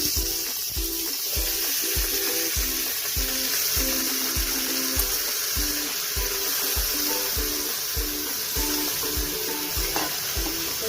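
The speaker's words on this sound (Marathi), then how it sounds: "त्याच्यामध्ये फक्त 1 पळी तेल टाकलं आहे मी आणि त्याच्यातच मी आता मुंडी टाकणार आहे." A mutton head sizzles in a spoonful of hot oil inside a pressure cooker, a steady bright hiss over a regular series of low rhythmic knocks, loud and continuous without speech.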